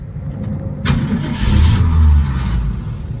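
A 55-year-old Ford Mustang's engine cranks on a start attempt. A short whirring turnover swells into a louder rumbling burst for about a second and then falls back, heard up close with no talk.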